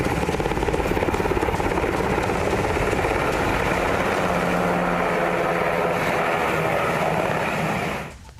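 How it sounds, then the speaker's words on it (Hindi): An Apache attack helicopter flies close by, its loud, steady rotor chop and turbine whine carrying throughout before cutting off abruptly near the end. "अपाचे हेलीकॉप्टर में नाइट विजन के साथ थर्मल सेंसर लगा है"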